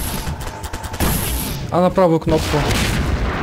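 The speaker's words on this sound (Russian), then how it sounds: "Это электропушка пускает электрическую ракету." Electric cannon firing rockets in Garry's Mod, with booming blasts and crackling bursts in quick succession while someone talks over the action.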